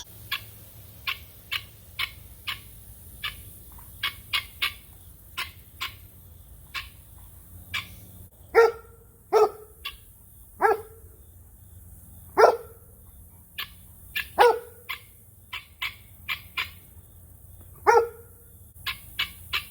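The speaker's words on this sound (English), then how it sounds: "She's annoyed with you, Miss Guinea, Mr. Guinea, yeah. Either that or they're doing a duet" Repeated harsh, clipped guinea fowl calls ring out, some sharp and rapid, others louder and throatier, trading back and forth like two birds answering each other.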